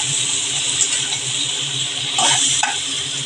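Ridge gourd pieces drop into a hot pan with turmeric for a Bengali stir-fried greens dish, setting off a steady sizzle that swells briefly with stirring, close up and without talk.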